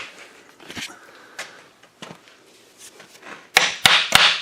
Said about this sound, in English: Hit it with the hammer. The brass hammer?